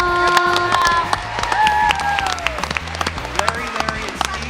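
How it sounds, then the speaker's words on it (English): An audience gives a big round of applause for kid contestants on a quiz game show, a continuous burst of clapping and crowd noise with some cheers and voices mixed in over musical tones. "Let's give them a big round of applause."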